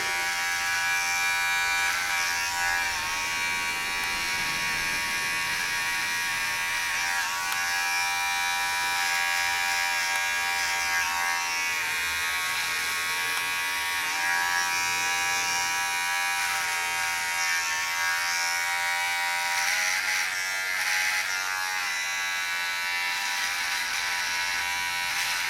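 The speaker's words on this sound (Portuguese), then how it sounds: "com a máquina de acabamento eu consigo" An electric hair finishing clipper buzzes steadily while trimming the lower part of a freestyle cut, a close, constant high-pitched motor whine that holds at even loudness for nearly half a minute with no talk.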